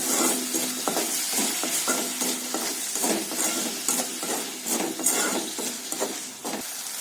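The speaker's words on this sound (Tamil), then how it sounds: "சேர்த்து நல்லா வதக்கிக்கோங்க" Tomatoes and salt sauté in a pan for an egg masala fry, with a steady sizzle and repeated scraping stirs of a spoon against the pan.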